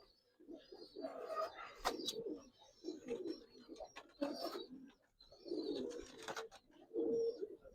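A colouring hurricane Giribaz pigeon gives low, faint coos in a few short spells, mixed with nearby people talking.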